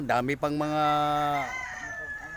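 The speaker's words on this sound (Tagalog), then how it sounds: "manok na pangsabong." A fighting rooster gives a brief, drawn-out crow close by, cutting across someone talking in Filipino.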